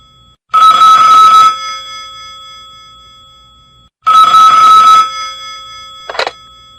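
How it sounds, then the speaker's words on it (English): A telephone bell rings in two loud, sustained bursts about a second long each, separated by a pause of a few seconds, followed by a brief final chirp as the ring cuts off. "At that moment, the telephone rang."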